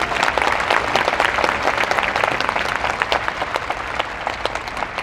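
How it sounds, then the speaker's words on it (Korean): Audience applause fills a Korean parliamentary audit hall, dense steady clapping from many hands sustained loudly for several seconds without a break. "여러분 박수 한번 부탁드리겠습니다."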